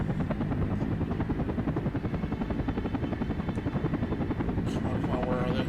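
Helicopter in the combat flight game Air Missions: HIND, a loud, rapid, pulsing rotor chop with a low engine drone, continuous and close, while someone talks over it.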